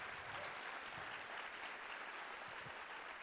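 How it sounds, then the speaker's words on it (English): Audience applause at a First Mondays event featuring Omar Offendum: a steady, dense wash of clapping that holds for the whole stretch at a fairly low, even level, with no talk over it. "Can we get a round of applause for my brother Idris,"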